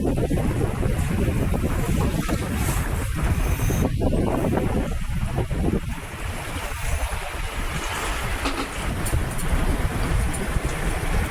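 A sailboat on a beam reach in 18 to 19 knots of wind makes 7 to 8 knots, with steady broadband rushing of wind and water, heavy wind buffeting on the microphone and no clear talking.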